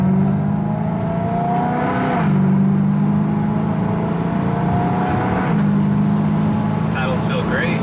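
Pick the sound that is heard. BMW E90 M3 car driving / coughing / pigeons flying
BMW E90 M3 car driving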